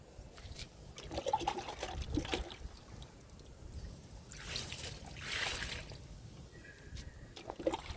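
Liquid fertilizer poured into potted flowering plants, a pink flower in a plastic tub, gives a soft, faint trickle and splash that swells and fades over several seconds, with no voices.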